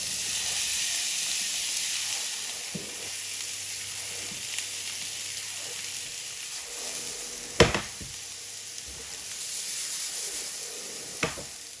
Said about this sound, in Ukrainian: Далі на тих самих сковорідках будемо смажити перець та моркву.